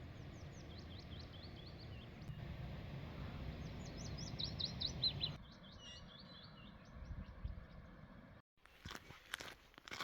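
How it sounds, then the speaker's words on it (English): Birds chirp and sing in Scottish woodland beside forestry roads, with repeated short high calls over steady outdoor background noise and rustling or crunching footsteps, a louder jumble of broadband noise at the end. "It's lovely though in these woodlands with the birds singing"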